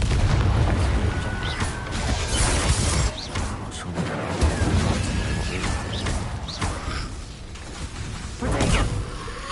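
Confringo blasting spell in Hogwarts Legacy, loud repeated booms and whooshing impacts over busy combat noise, with bursts through the clip and a heavy hit near the end.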